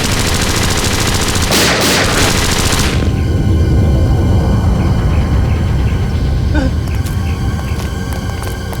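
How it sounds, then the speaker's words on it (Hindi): Loud, dense bursts of rapid gunfire and explosive effects roar continuously, with a sharp rushing blast near the start as a missile is launched from an island in a crime drama scene, followed by sustained heavy firing. "टापू से मिसाइल छोड़ी गई।"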